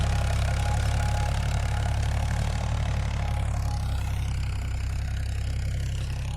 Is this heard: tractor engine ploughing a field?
yes